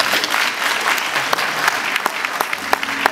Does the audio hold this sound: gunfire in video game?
no